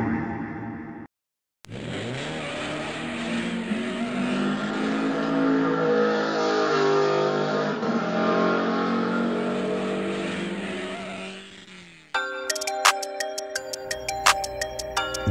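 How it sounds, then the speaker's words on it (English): Motors of 1/32 scale slot cars whine steadily through a tournament race on a track for about ten seconds, then cut out, giving way to sharp clicking and ticking sounds. "JP and Team Rust Belt Racing takes race number three"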